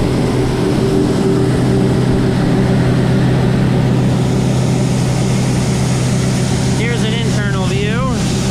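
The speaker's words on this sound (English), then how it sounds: "Sometimes I think that Cummins is louder than Nick." A corn hauling truck's Cummins diesel engine drones loud and close in a steady low rumble inside the cab, and a voice rises near the end.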